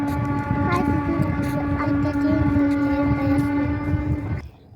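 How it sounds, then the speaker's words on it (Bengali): A train sounds its steady horn tone over low rumbling as it passes near the Ghaghat river on a winter morning. The sound is loud and continuous, then drops off sharply at the end. "কি সুন্দর লাগে না ট্রেনের সাউন্ডটা?"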